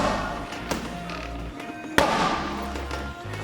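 Punches land on a boxing heavy bag during boxing training, with sharp single thuds spaced out over a few seconds and one especially hard hit near the middle, heard against a busy, humming room background.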